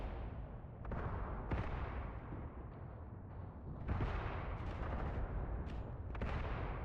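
Mortar and artillery fire in a World War II strategy game set on the Mius Front, a dense rumbling barrage with several sharper booms standing out above continuous distant explosions, no voices.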